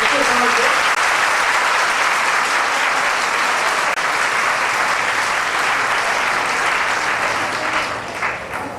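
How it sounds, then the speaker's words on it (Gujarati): Sustained, dense applause from a large audience at a Sharad Poonam Raas Garba festival, steady and loud across the whole stretch with a faint voice briefly underneath at the start, tapering slightly near the end. "તાલીઓના ગડગડાટથી વધાવી લેશો."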